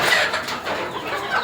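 Hens at a poultry farm cluck and murmur continuously over a dense, noisy background, the calls steady and close with no talk over them.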